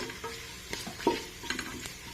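Whole pulao spices such as cardamom and cloves stirred and mixed in a hot pan, with close scraping and clinking strokes over steady frying sizzle, and no talk.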